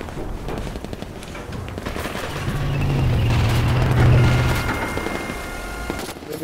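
Bursts of rapid automatic submachine gun fire from a PPS in a World War II video game crackle in quick succession over a low rumbling background, loud and close.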